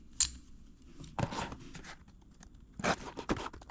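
Packing tape is sliced and pulled on a cardboard box holding a replacement tension pulley part for a Vevor machine, quiet close cutting and tearing scrapes in short separate bursts.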